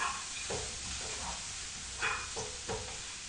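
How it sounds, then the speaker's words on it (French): A spoon stirs a mixture for a vegan foie gras alternative, giving several soft scraping strokes at an irregular pace, close up, over a faint background sizzle. "Donc je vais mélanger un peu ça"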